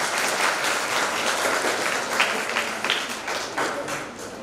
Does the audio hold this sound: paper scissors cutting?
no